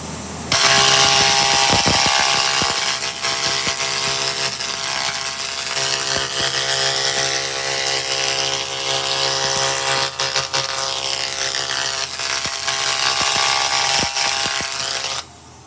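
A 2000W laser cleaner stripping rust and paint from the inside edge of a steel I-beam, giving a steady, loud buzzing hiss with a crackling texture that runs almost without a break, then cuts off at the very end.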